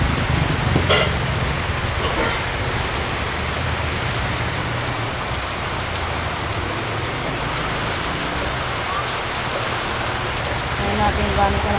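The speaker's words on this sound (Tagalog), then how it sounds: "Lakas ng ulan." Heavy rain pouring down steadily, a loud dense wash of noise filling the whole clip without letup, with a brief sharper knock near the start.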